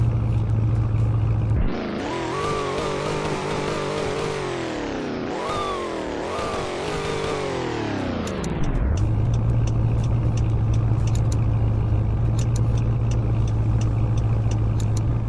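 A Chrysler Pacifica minivan engine in the Roblox game Greenville holds a steady idle, then rises through several loud revving sweeps before settling back into a constant idle hum.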